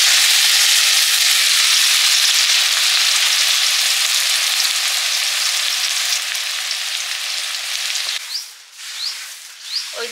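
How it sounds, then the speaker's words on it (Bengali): Steamed green bananas frying in mustard oil give a loud, dense, continuous sizzle up close that eases slightly near the end, with a few stirring scrapes; no talk. "কাঁচকলাগুলো ভাপিয়ে নিয়েছি, কাঁচকলাগুলো ভেজে নেব"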